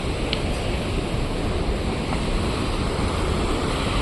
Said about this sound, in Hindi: और ये देखो झरना भी है भाई